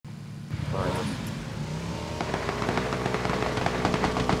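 A vehicle drives in a game, with a steady engine drone and rising rumble that grows rougher and more textured toward the end, under voices talking over it.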